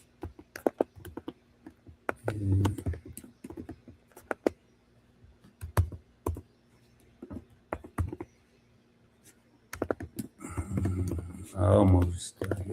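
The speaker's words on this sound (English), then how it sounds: "I feel like I'm typing a paragraph" Typing on a computer keyboard, irregular bursts of soft clicking keystrokes close by, with pauses and a faint background hum, plus a short stretch of someone talking.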